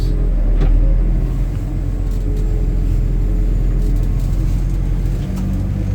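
A steady, heavy tractor engine rumble as it drives along a road, low and continuous with a slight swell near the start.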